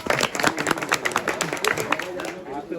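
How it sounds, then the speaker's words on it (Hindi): Group clapping outdoors at a food stall on the Amarnath Yatra route, a burst of brisk hand claps under chatter and background voices, fading out near the end. "तालियां।"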